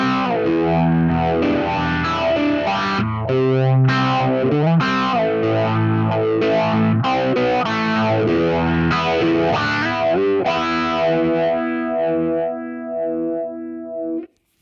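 An electric guitar runs through a phaser or univibe effect placed after a drive pedal, strumming distorted, swirling chords loud and steady for most of the passage before ringing out and cutting off at the end, with no one talking.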